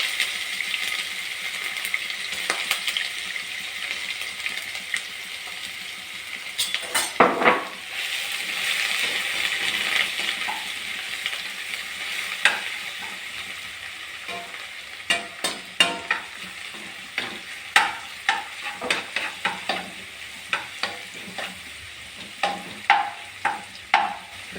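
Crushed ginger and garlic frying in a pan for cauliflower pepper fry, a steady close sizzle with a spoon stirring and scraping, the scrapes turning into rapid repeated strikes toward the end.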